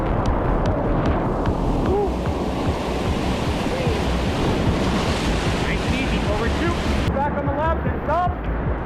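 Class 4 whitewater rapids on a California river during a rafting trip, a loud continuous roaring rush of churning water with wind buffeting the microphone, and a few faint voices near the end.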